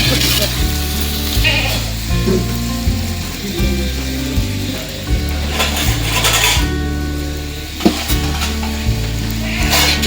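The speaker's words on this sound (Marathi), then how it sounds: "कांदा, टमाटो, हे लवंग, दालचीन हे सगळं परतून घ्यायचं आहे" Onion, tomato, cloves and cinnamon fry in a pan for Pandharpuri biryani, a continuous sizzle with repeated scraping and stirring of a utensil against the pan, and a sharp clink near the end.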